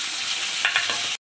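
Pieces of soft fish frying in mustard oil give a steady, close hiss, with a few brief bumps of movement in the pan before the sound cuts off abruptly.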